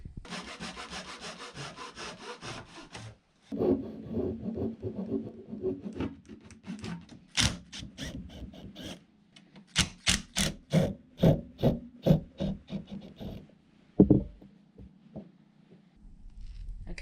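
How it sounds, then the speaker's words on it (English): A hand saw cutting off a wooden slat, first a quick run of continuous rasping, then a steady series of rhythmic back-and-forth strokes, close and loud, with a brief clunk near the end. "So I'll just saw it off somewhere around here"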